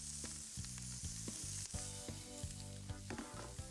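Ground meat patties seasoned with salt, pepper and parsley sizzle on a flat grill, a steady close frying hiss with scattered crackles and pops, soft background music, no talking.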